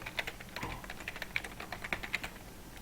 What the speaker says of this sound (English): Preset details I will type here